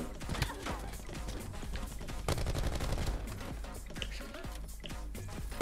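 Bursts of rapid gunfire crackle through a shooter video game match, with dense overlapping shots and game effects at steady loudness, and no speech over them.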